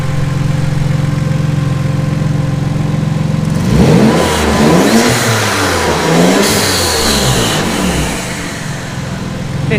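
Twin-turbo Ford Capri with a 2.9 Cosworth BOA engine, idling hot and then revved repeatedly for several seconds, loud and close, with rising and falling engine surges before it settles.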